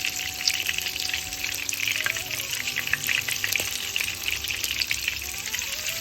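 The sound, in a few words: shrimp fritters frying in oil, being turned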